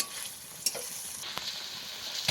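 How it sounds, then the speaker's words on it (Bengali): Pangas fish frying in spices in a pan, being turned and cooked down: a steady soft sizzle with a few brief stirring clinks, close and alone without voices. "আমি অনেকবার উল্টো পাল্টে একটু এরকম করে কষিয়ে নিয়েছি মাছটাকে।"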